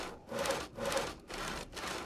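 Logs being sawn in the Project Zomboid video game, four rhythmic back-and-forth rasping strokes of a hand saw on wood, close and fairly loud with short gaps between strokes.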